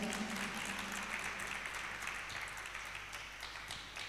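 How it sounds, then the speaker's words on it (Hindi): Audience applause at a Jain religious sermon, a dense wash of many hands clapping that fades gradually toward the end. "एक बार आपके लिए जोरदार तालियां बजाएं।"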